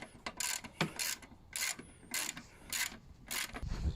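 Ratchet wrench tightening a brake caliper bolt on a Yamaha MT-07 motorcycle during a brake pad change, close rapid clicking bursts repeating in a steady rhythm, no talk.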